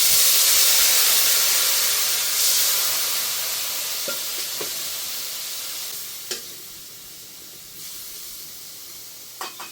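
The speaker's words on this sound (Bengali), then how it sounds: "মশলাটা কষাবার জন্য অল্প একটু সামান্য পরিমাণে একটু জল দিয়ে দেব।" Water splashed into spice paste frying in a pan with chili and turmeric powder gives a loud, steady sizzle and hiss that slowly fades, with a few light clicks of stirring near the end.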